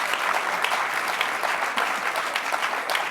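A crowd at a talk with a former U.S. housing secretary breaks into steady, moderately distant applause, an even patter of many hands lasting the whole moment without talk.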